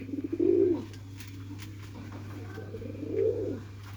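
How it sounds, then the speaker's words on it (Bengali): Two deep, rounded pigeon coos, each about half a second long, rise close by with a pause between them over a low steady hum. "কবুতরের সুন্দর মুহূর্ত হয়েছে ডাকাডাকি করে"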